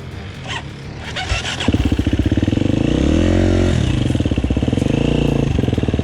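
A motorcycle engine revs hard in a forest, rising from a rough idle into a loud, pulsing roar that climbs in pitch, dips, then holds a steady throbbing rev close by.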